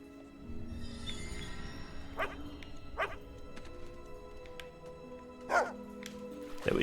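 A dog in the video game Fable II gives a few short yips and barks, scattered and fairly quiet over a soft game background of ambient music.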